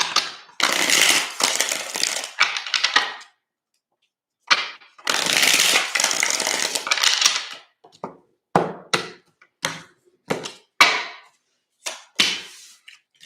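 Tarot cards being shuffled by hand during a reading, with cards sometimes dropping. Two long riffling bursts are followed by a run of short, sharp card snaps and taps, close and fairly loud, with no talking.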